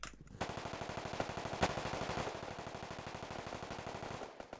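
Rapid automatic gunfire rattles in the Roblox shooting game Riotfall, a fast, even stream of close, loud shots running almost unbroken, with a few heavier bangs mixed in.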